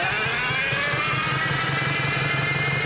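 Detroit diesel engine in a motor grader, locked up for seven years with a failing fuel pump, cranking and running with a loud, continuous rough drone throughout.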